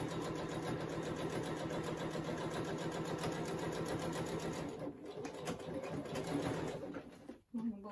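A sewing machine runs steadily, stitching the tail of a fabric toy giraffe, with a continuous whirring buzz that briefly pauses near the end; a voice talks over it.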